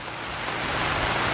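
Rain drums on the roof of a backyard camper in a dense, continuous patter that swells slightly louder over the short span, close and loud with no talking.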